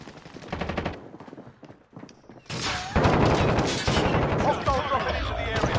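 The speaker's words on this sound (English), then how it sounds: "I'm literally getting shot from everywhere" Rapid bursts of automatic gunfire and scattered shots in the Warzone video game, loud and dense, building into a sustained fusillade in the second half, with brief voices mixed under the shooting.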